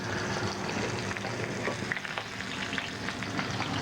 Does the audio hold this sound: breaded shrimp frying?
yes